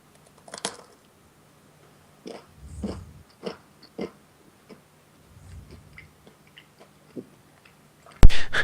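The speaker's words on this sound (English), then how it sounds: "That is an alarmingly crunchy pizza." Crunchy pizza, left out for about three hours, is chewed close to the mic in a few irregular crunching bites with soft clicks between and a sharp sound near the end.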